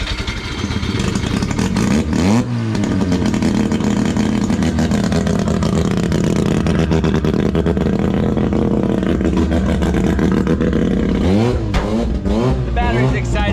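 A rotary-engined car is revved hard with no alternator fitted, roaring loudly and steadily throughout with a few rising rev sweeps near the start and end, and voices mixed in underneath.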